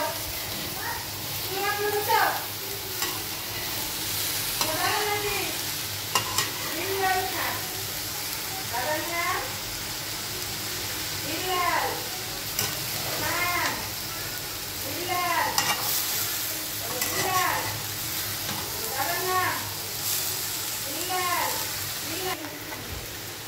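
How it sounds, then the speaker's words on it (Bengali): A vegetable bhaji sizzles steadily in a pan while it is stirred now and then, with scraping strokes heard up close. A voice talks over the frying throughout. "কিছুক্ষণ পর পর আমি ভাজিটাকে নেড়ে নেড়ে দিচ্ছি যাতে নিচে লেগে না যায়"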